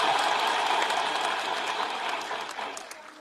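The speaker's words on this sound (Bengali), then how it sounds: "আমাদের উচ্ছ্বাসের জন্য একটা জোরে হাততালি দিই," Loud, dense applause from a large audience at a speech event, a steady broadband wash of clapping that holds for about three seconds and eases slightly toward the end.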